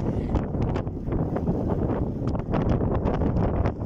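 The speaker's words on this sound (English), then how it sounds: "Very windy." Strong wind buffets the microphone in a continuous loud roar with gusty surges, no voices present.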